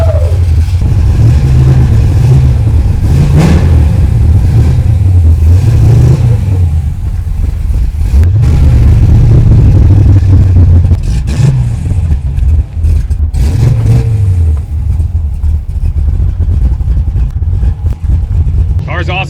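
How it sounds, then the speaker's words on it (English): A junkyard LS V8 truck engine in a '64 Chevrolet Nova revs hard in repeated surges during a burnout, roaring and rising near the listener, with voices talking over it. "We are going to peer pressure him into doing some gnarly burnouts."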